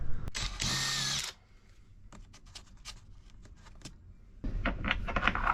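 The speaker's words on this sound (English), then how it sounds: "drill the hole in the end for the correct size hole for the switch" A power drill bores a switch hole through veneer plywood, with a short loud whirring burst, then quiet scraping and clicks, and a second drilling burst at the end.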